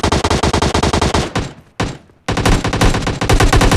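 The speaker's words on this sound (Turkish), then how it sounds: "ya adama dünyanın mermisini atıyorum" Rapid automatic gunfire from the mobile battle royale game PUBG Mobile Lite, loud bursts of closely spaced shots with a short pause midway before firing resumes.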